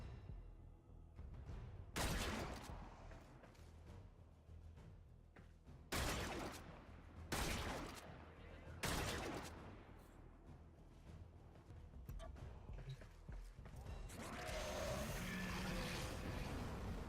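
Vectis Prime rifle firing in the video game Warframe, four separate sharp loud shots spaced a few seconds apart over a quieter game background, with no talk.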